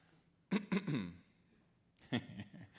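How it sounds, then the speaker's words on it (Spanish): A few quick coughs up close, then a pause and another short cough with a throaty rasp, fairly quiet overall. "Yo toso y todos tosen."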